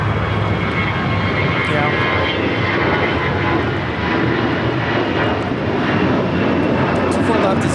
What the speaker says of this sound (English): Lufthansa A380 Super now making that final turn, heading into the gates of Tom Bradley